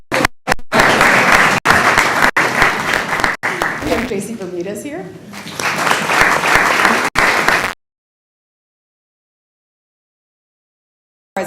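An audience at a judge's investiture ceremony bursts into loud, close applause that breaks briefly while a speaker introduces a guest, then resumes before cutting to silence.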